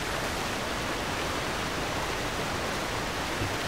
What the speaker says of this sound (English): Can I please get out of this waterfall?